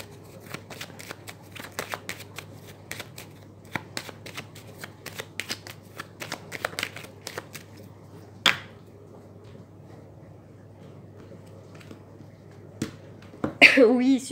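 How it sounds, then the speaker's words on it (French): Tarot deck being shuffled and cut, rapid repeated riffling and card flicks for several seconds, then a quiet stretch with a single sharp snap, ending in a louder handling sound with a voice briefly present. "je vais faire une coupe avec le tarot que j'utilise pour les prédictions et la divination en consultation"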